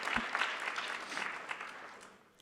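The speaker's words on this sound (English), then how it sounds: "just a round of applause once again" An audience at an event gives a steady round of clapping, moderately loud and sustained across the room, with no voices above it.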